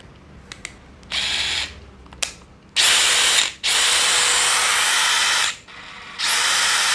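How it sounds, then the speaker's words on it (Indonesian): An impact driver, a screwdriving tool here used for drilling into wood, runs in several bursts of loud, close whirring with brief stops between them and a few light clicks before the longer runs. "menggunakan impact driver seperti ini yang sebenarnya untuk penyekrupan tapi digunakan juga untuk pengeboran"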